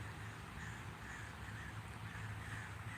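A flock of crows caws steadily and densely, with overlapping calls forming a continuous chorus that stays fairly loud throughout, and no voices over it.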